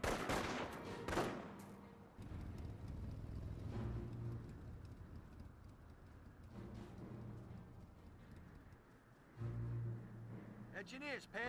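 Gunfire from a Company of Heroes 1 battle in which engineers and Panzer Grenadiers come under fire: faint, scattered shots and bursts rattle at a distance amid low rumbling battle noise, with a louder burst near the end.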